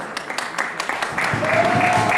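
Warm applause from the audience at an anniversary celebration and honoring evening, a steady dense patter of many hands clapping that swells louder partway through, with a faint sustained tone near the end.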